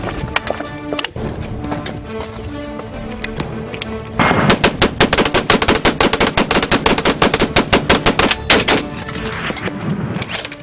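Mauritanian army machine guns fire on a military shooting range in loud, rapid, sustained bursts of close gunfire. The rattling volleys run almost without a break and grow denser partway through.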